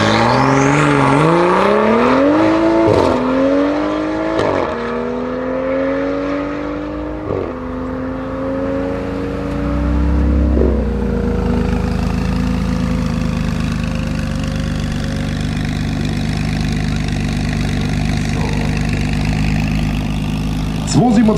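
A 550 hp BMW M2 convertible tuned by Kotte Performance revs up through rising engine pulls and gear shifts, then settles into a loud, rumbling idle heard close by; a voice speaks over it.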